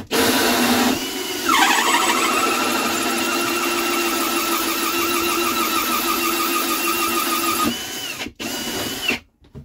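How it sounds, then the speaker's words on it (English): A power drill whines steadily for several seconds, its pitch dipping briefly under load, then winds down and stops in short bursts near the end. "We have our two holes drilled."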